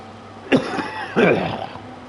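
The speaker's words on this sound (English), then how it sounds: "I just gotta do a little cough here" A man coughs sharply once, then clears his throat with a longer rasping burst, close and fairly loud in a quiet room.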